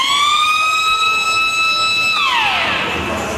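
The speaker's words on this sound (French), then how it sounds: "C'est le son de l'alarme générale." Prison general alarm at the Amiens remand jail, a loud electronic siren holding a steady pitch and then sweeping sharply downward, sounding alone without talk.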